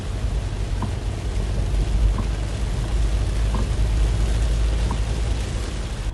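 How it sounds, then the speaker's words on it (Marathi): Heavy rain pours over Kurla and Ghatkopar in Mumbai as traffic slows, a dense, unbroken hiss of rainfall that stays loud and even throughout. "मुसळधार पावसामुळे वाहतूक काही प्रमाणात मंदावलेली आपण पाहतोय।"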